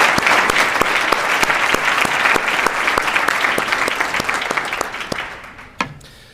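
Audience applause fills the room at a Lansing Catholic dinner honoring Fr. Mac, with dense, sustained clapping and scattered louder claps. It gradually thins and fades out over about six seconds.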